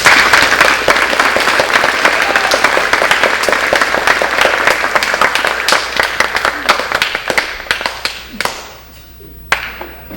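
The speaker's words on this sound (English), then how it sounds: "Graduates, please take a moment and join me in a round of applause for your support system" Loud, dense applause from a graduation audience at a summer school ceremony, sustained for several seconds before thinning into scattered claps and a few last sharp ones.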